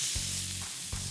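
A smashed burger patty sizzles loudly in a hot pan, a steady close crackling hiss with a couple of brief thuds from the press.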